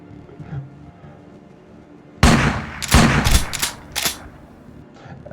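Video game shotgun and assault rifle fire in a survival mode, starting with a loud burst and followed by several sharp close shots over a low background hum.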